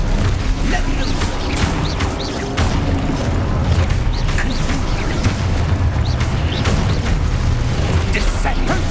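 Spell combat in Hogwarts Legacy with the Levioso levitation charm cast amid a dense, continuous wash of magical bursts, booms and clattering impacts, loud and busy throughout with shouted spell names layered over it.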